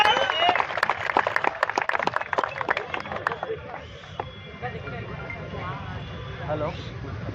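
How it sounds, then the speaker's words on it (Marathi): An audience at a bodybuilding competition in Ambarnath breaks into brisk applause, a dense burst of clapping in the first few seconds that thins out, with a voice speaking over the crowd noise. "जरा एकदा जोरदार टाळ्या होऊन जाऊ दे"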